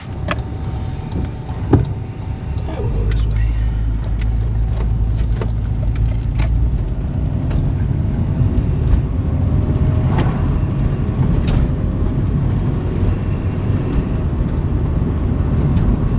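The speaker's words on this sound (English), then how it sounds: "So let's let this thing idle a second and take it for a little ride." A cheap old car with a fresh distributor cap and rotor, fixed after a misfire, runs at a steady idle before pulling away, its low engine drone holding loud and continuous with road rumble and faint rattles, no talk.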